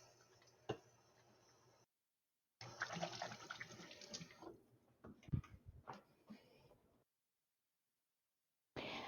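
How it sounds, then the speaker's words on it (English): Water running from a kitchen tap while hands are washed after handling raw egg, splashing unevenly and fairly close in bursts, separated by quiet gaps where the clip cuts. "And then I'll wash my hands because I touched raw egg."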